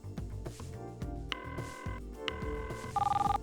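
A cell phone rings in short electronic bursts partway through, with a quieter trilling ring pattern at the end, heard over a background of other sounds and no speech.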